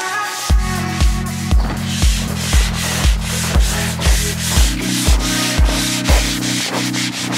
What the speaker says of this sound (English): Sanding and painting now.